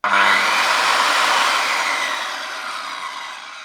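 A Bosch GKS 190 Professional handheld circular saw spins up with a soft start and no jolt, a loud steady whine that holds alone for several seconds and begins to ease off toward the end.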